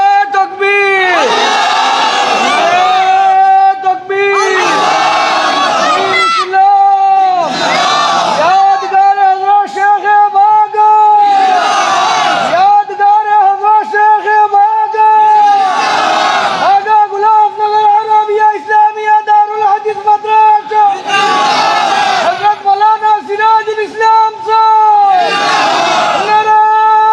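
A large crowd at a Bangla religious sermon shouts takbir in repeated loud, unified chanted bursts, about eight of them, each a few seconds long with short pauses between, close and powerful.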